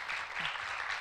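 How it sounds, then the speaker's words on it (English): Brief burst of audience applause at a TB and lung health symposium, a dense wash of clapping from many hands filling the short moment at moderate level. "A round of applause for our rapporteur and for our speakers,"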